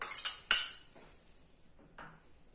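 Cut potatoes drop into a bowl in a few sharp, close clatters, followed by a fainter knock after a short pause.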